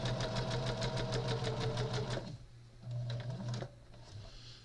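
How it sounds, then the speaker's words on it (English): A sewing machine stitching a quilt block runs in a fast, even, rhythmic whir for about two seconds, then drops to a quieter hum with brief mechanical clicks. "I just kind of just stitch it on there just like that"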